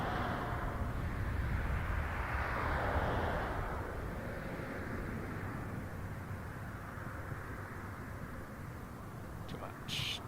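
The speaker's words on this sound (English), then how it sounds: "It's King Air coming in from Cincinnati. About to land on 23." A King Air turboprop approaches to land at Toronto Pearson Airport, a broad steady engine roar swelling and easing at moderate distance over light background noise.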